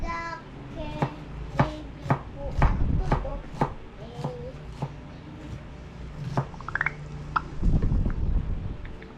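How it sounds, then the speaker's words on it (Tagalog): Tomatoes, garlic and onions being chopped on a board in a home kitchen, a run of crisp knife knocks in quick succession, with voices and small kitchen clatter around it. "May naghihiwa ng kamatis. May naghihiwa ng bawang sibuyas."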